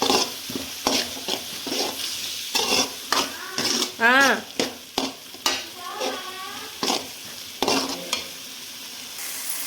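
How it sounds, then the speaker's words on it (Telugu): A spoon stirs coriander powder and chili powder into tomato masala frying in oil for egg curry, with repeated scraping strokes against the pan over a constant close sizzle. "యాడ్ చేసుకొని మంచిగా కలిపేసుకోండి"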